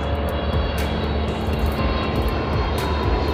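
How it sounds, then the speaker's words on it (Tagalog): An airplane passes low over a house in the Philippines, its engine a loud, steady roar filling the whole stretch without a break. "Yan po, may aeroplano na oh."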